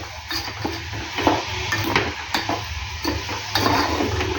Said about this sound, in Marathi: मिक्स करते याला आता चांगला होऊ द्यायचा आहे खूप वेळपर्यंत